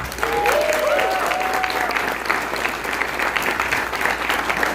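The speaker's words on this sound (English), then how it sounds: "So, round of applause for Nick." Crowd applause at a convention opening ceremony, a full and steady wash of clapping lasting nearly five seconds, with a few brief cheers or whoops rising over it early on.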